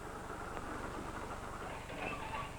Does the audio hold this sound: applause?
no